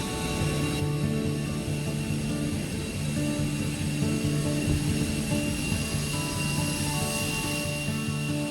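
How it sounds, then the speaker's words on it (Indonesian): Batik Air Airbus A320 airliner, a steady droning engine hum with a constant whine, heard from nearby at an even level throughout, no talking over it. "Oke teman-teman, ini pesawat kita. Kita akan naik Batik Airbus 320."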